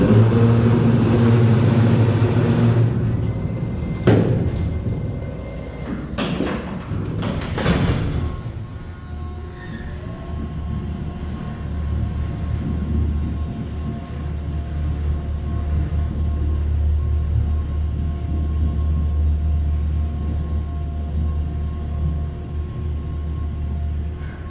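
Montgomery traction freight elevator motor at the Palisades Center in West Nyack running with a steady low hum and drone, preceded by a few clanking knocks and door-like thumps early on, sustained and fairly loud.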